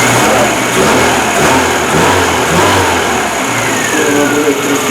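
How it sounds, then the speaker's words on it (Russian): A rebuilt UZAM 1.7 car engine running on gas, shaking slightly and needing new spark plugs, hums steadily at close range with a continuous low rumble and faint revving surges throughout. "Работает уже моторчик на газу."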